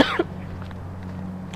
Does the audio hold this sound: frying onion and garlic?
no